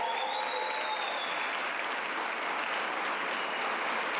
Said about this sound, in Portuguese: Dá uma salva de palmas para os missionários Dunamis.